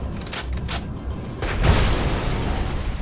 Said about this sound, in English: the cannon weapon, the primary weapon on this flying tank, is pretty devastating. Those cannon shots take out a whole city block